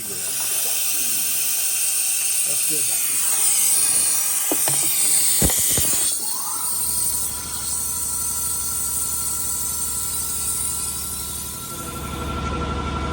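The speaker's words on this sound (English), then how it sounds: "It's a vacuum machine. So it sucks out the vacuum, and then the stuff goes in." A vacuum coolant filler working on a 2009 Suzuki Grand Vitara radiator gives a loud, steady hiss that cuts out abruptly midway. A few sharp clicks follow, then the hiss changes into a lower, continuous whoosh that runs to the end.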